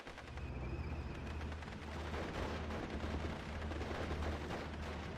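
Heavy, continuous barrage of 3-inch mortar and artillery fire in the WWII strategy game Steel Division: Normandy 44, booming steadily for several seconds with dense overlapping blasts and no talk.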